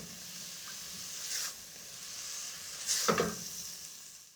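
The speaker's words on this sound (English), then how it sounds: "I'm just going to add a splash of water." A splash of water hitting a hot pan of onion, ginger and garlic masala, steady hiss with two bursts of louder crackling steam, close and alone.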